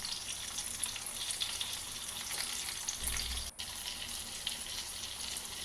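Eggplant pieces fry in oil in a pan with a dense, steady sizzle, close and continuous, broken by a brief dip and a low thump midway.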